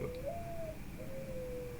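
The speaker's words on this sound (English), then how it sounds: "it's an owl out there" An owl calling outdoors: two drawn-out, hollow hoots, the second longer than the first, soft and distant over a steady background hiss, with no talking.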